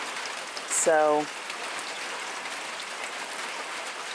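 Light, steady rain patters evenly on outdoor surfaces as a continuous soft hiss, with a brief bird chirp and a short spoken word early on.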